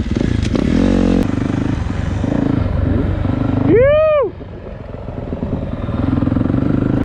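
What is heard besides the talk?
2023 Yamaha YZ450F dirt bike riding on motocross track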